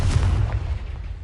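A Confringo fire-blast spell explodes in Hogwarts Legacy, a short, loud, bass-heavy boom with a rumbling tail lasting just over a second, heard alone.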